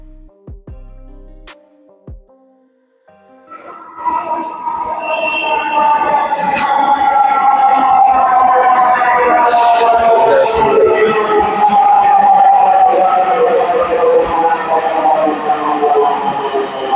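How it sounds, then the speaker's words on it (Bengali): A Dhaka metro rail train pulls into the platform, its rising mechanical hum and tonal screech building after a quiet start and holding loud and steady to the end, with station clatter around it. "সো ফাইনালি আমাদের ট্রেনটা এখন আমাদের সামনে চলে এসেছে।"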